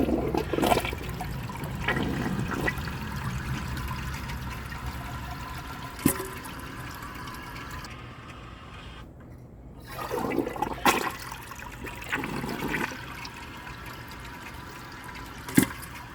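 A 2011 AquaSource one-piece toilet flushes with a rushing surge of water, then trickles and gurgles as the tank refills, with a couple of brief clunks along the way and no talking.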